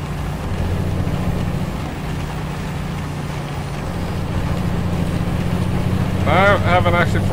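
A truck engine drones steadily in American Truck Simulator, a low continuous hum with a faint rising tone, and a short burst of chirping tones enters near the end.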